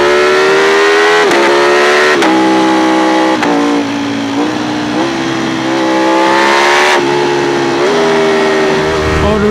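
A Ducati Panigale V4 Speciale motorcycle engine roars loud and close, rising and falling in pitch through repeated revs and gear changes with a harsh, buzzy exhaust note.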